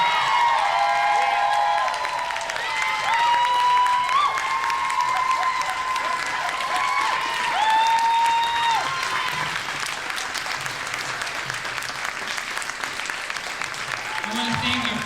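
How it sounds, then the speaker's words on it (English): A large graduation audience applauds the class of 2016 with sustained, dense clapping that holds at a steady loud level for the whole stretch, while a sung or spoken voice carries faintly over it. "Let's give them a round of applause."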